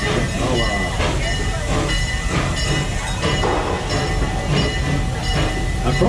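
Busch Gardens park train rolling on its rails, a steady dense rumble with faint clatter and hiss throughout, with a voice talking over it.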